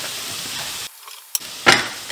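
Carrots sizzling in a frying pan for zucchini caviar, a steady close hiss with a brief quieter gap midway and a sharper crackle burst near the end.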